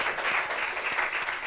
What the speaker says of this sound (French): Daisy, on va applaudir ouais.